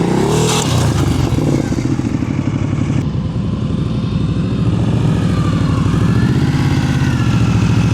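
A motorcycle engine chugs at low revs during slow-speed riding drills, close and loud, with the throttle easing up and down through tight maneuvers in a practice lot.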